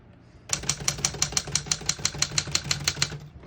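A 1956 Remington Travel-Riter portable typewriter typing steadily, about a dozen crisp, evenly spaced key strikes in a quick rhythm, close and clear with no talking.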